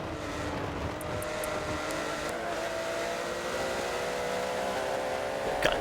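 Porsche GT3 race cars lapping Sebring in a racing video game, a steady layered engine drone with rising and falling pitch trails as several cars run together, moderately loud and continuous throughout.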